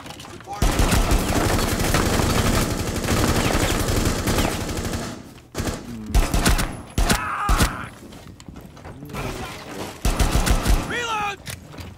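Loud, sustained automatic gunfire in Rainbow Six Siege: a long, rapid close-range burst, then a pause and several shorter volleys and single shots mixed with other game sounds.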